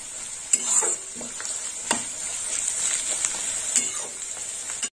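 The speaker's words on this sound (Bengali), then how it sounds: "এই পেঁয়াজটা একটু লাল লাল করে ভাজা হবে।" Chopped onions fry over high heat in a pan, a continuous sizzle broken by repeated scraping stirs of a spatula, close and fairly loud, with no speech.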